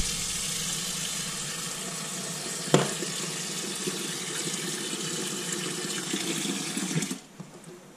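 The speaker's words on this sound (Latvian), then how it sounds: "Var uzliet uzreiz ūdeni." Water pours steadily from a tap while making khinkali dough, a continuous splashing rush with a brief knock partway through, ending abruptly when the flow stops.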